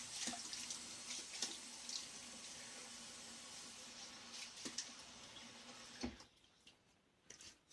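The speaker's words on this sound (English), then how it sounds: "let me wet my face and I'll start doing the pre-shave thing." Water running steadily from a tap into a sink while a face is wetted before shaving, a continuous close hiss broken by a few splashes before it cuts off near the end.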